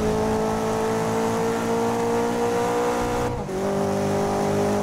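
A racing car in the video game GRID 2019 accelerates hard, its engine whining steadily upward with a brief dip for a gear change before climbing again, loud and continuous with no talk.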